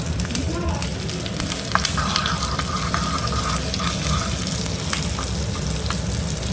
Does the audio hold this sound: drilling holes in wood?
no